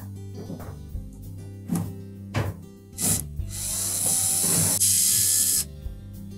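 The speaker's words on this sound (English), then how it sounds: "Then we'll remove the two screws that secure it to the blower housing." Two screws being backed out of the blower housing of a Samsung dryer, with a hand tool giving repeated close ratcheting clicks and grinding metal turns, then a longer whirring spin with high scraping.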